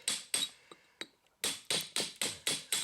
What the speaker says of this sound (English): And then you start working it with the flat chisel.